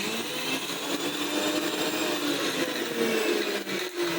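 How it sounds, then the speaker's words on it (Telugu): A mixer grinder grinds chicken masala with a steady, close, high-pitched motor whir that runs unbroken for a few seconds. "ఫస్ట్ ఇప్పుడు చికెన్ మసాలాని ప్రిపేర్ చేస్తున్నాం. మిక్సీకి వేయబోతున్నాం."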